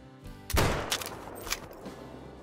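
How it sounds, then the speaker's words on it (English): A single loud 22-250 rifle shot fired while hunting in the video game Call of the Wild in Australia, a sharp blast followed by a rolling echo that fades over about two seconds. "22-250. That shot looked good."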